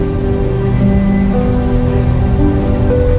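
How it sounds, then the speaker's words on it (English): Squall rain on a merchant ship at sea in the Indian Ocean during the southwest monsoon: a loud, dense, continuous downpour hiss with gusty wind and low engine hum underneath. "You have squalls in the middle of the ocean."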